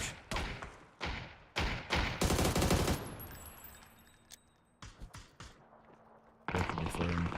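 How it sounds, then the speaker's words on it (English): Gunfire in an esports video game match starts as a few sharp shots and builds into a dense burst. A quieter stretch with faint taps follows, then another loud volley near the end. "You can hear him shoot."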